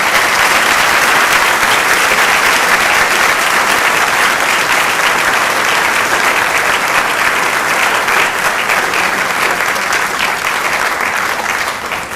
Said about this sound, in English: we'd like to have one more round of applause as we await the answer for our candidates